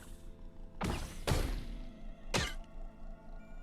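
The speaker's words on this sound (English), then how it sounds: "You just threw a poison grenade at me" A poison grenade in Caves of Qud is thrown and lands. Three dull, thudding bursts with a swishing edge come in quick succession over a quiet background.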